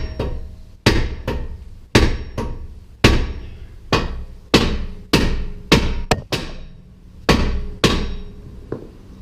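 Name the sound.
hammer whacking a rusted wheel spindle loose on a 2005 Infiniti FX35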